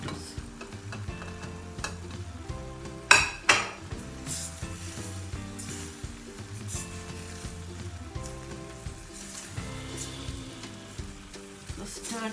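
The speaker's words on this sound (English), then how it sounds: "So stir everything well." Beef pepper fry with tomatoes stirred in a pan, Anglo-Indian style, giving steady sizzling with scraping and clinking from the spoon against the pan, including a couple of sharper knocks, over a continuous background of music.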